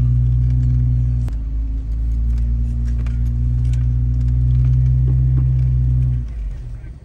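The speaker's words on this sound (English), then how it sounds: "Cruiser going up on the rock section over here." An off-road Cruiser crawling up a rock obstacle section at an adventure vehicle expo course, a steady low engine drone holding for about six seconds before dropping off.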